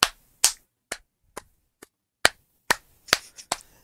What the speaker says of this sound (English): I'm going to do the famous Anderson clap.